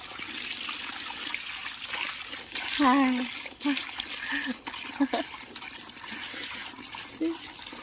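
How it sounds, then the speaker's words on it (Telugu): Water flows and splashes continuously from a pump pipe close by, while people talk and exclaim over it. "వాటర్ చూసారా పంపు పైపు పైపు పైపు"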